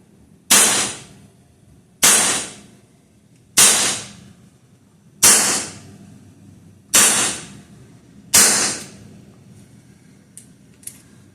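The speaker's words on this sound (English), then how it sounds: "All 12 shots gone" Six sharp, loud shots from an Evanix Viper-x .25 caliber PCP air pistol, fired at an even pace about every one and a half seconds, each a close crack with a brief decaying tail, followed by faint clicks.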